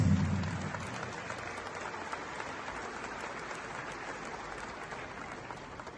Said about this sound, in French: je vous demande encore de vous applaudir et d'applaudir Kémy Séba qui vient d'arriver ici